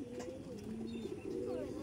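Fulshira homing pigeons kept in a house loft coo softly in a faint, steady murmur with no voices over it.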